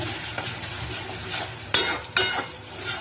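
Masala with tomatoes stirred and frying in oil for tel koi (Bengali climbing perch curry), a steady sizzle broken by a few louder scraping strokes of the spoon against the pan.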